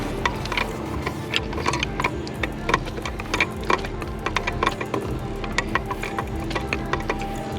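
A ratcheting wrench tightens the front fuel line fitting on a Ford 7.3 Powerstroke, a steady run of close, crisp clicks in quick rhythmic bursts.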